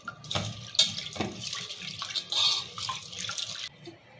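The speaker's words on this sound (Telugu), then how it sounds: "2 సార్లు కడుకొచ్చుకుందాం బాగా నీళ్ళు పోసి" Water splashes over chana dal and toor dal in a bowl as the lentils are rinsed, with uneven bursts of pouring and sloshing, quiet and close.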